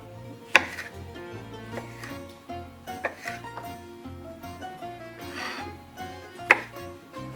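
Cucumbers being cut into even wedges with a knife, a scattered series of sharp taps and thuds on a cutting board at close range, separated by quiet pauses.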